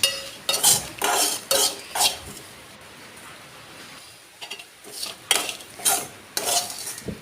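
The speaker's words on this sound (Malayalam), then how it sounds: "ഇട്ടിട്ട് നല്ലോണം ഒന്ന് ഇളക്കാം." Dried prawn chammanthi is stirred in a metal pan, with several bursts of scraping and clinking at an uneven rhythm, close and fairly loud, and a quieter pause between them.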